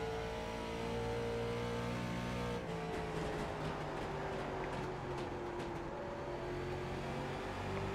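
A late model race car engine in the iRacing sim at Lucas Oil IRP, a steady droning roar whose pitch drops, then climbs again as it accelerates, fairly quiet overall.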